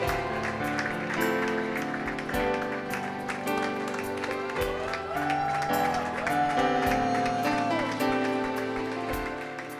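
Congregation applauding and cheering the Lord at a church service, a dense, sustained wash of clapping over music with sustained tones and drum hits, loud and continuous throughout.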